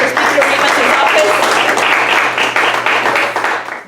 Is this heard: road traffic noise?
no